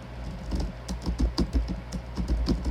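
Close, steady typing on a computer keyboard, a quick irregular patter of key clicks with no voices.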